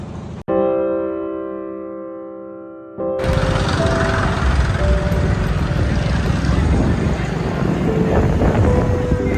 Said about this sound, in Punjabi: ਅੱਜ ਸਾਡੇ ਪਿੰਡ ਟਰੈਕਟਰ ਮਾਰਚ ਆ